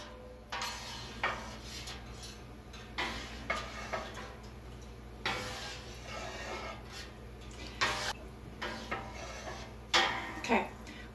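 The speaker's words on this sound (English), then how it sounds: "Then I'm going to stir in an up-down fashion like this, incorporating all the way through the milk" Raw milk stirred in an up-down motion in a cheesemaking pot, with quiet intermittent clinks and scrapes of a utensil against metal spaced a second or two apart over a faint steady hum.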